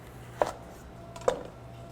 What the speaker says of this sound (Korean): 양파를 먼저 반으로 썰겠습니다